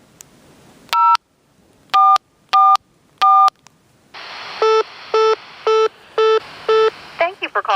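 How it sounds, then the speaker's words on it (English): Telephone keypad tones are dialed through a radio repeater on a day hike. Four sharp, evenly spaced beeps are followed by a quicker, fainter run of six more tones, ending in a warbling burst. "While I'm at this repeater, let me see if I could make a phone call."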